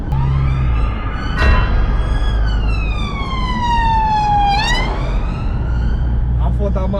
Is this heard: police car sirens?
yes